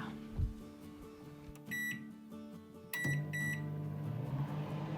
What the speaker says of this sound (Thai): นำตัววิปปิ้งครีมนะคะ เข้าไมโครเวฟที่ 1 นาทีค่ะ